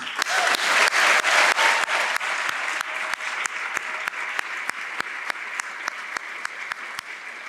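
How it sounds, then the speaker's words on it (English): A crowd at the Michigan Union grand opening gives a big round of applause, dense clapping loudest at first and then thinning to scattered, fading claps. "Let me give and lead a big round of applause"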